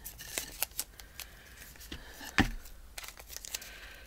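Scissors snip through paper at a craft table, a few soft crisp cuts and crinkles scattered among quiet handling noises and a louder thump.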